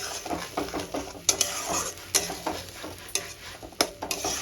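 Spice masala fries in a pan for a fish curry, a close sizzle under repeated scraping and clanking of a metal spatula against the pan in an uneven stirring rhythm, with no talk.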